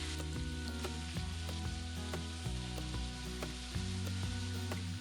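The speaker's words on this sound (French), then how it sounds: "faire dorer la viande." Bite-sized beef pieces browning over high heat in two tablespoons of oil in a sauté pan, a soft continuous sizzle with scattered crackles, faint under a low steady background tone.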